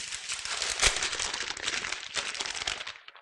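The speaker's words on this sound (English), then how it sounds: "why your sheets sound like some paper?" Stiff bed sheets crinkling like paper as they are handled, a close, dense rustle with a sharp crackling burst early on, then continuous crumpling that fades at the end.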